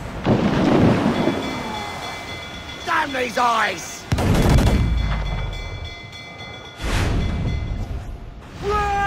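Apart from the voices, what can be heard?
ship cannon fire in Assassin's Creed Black Flag video game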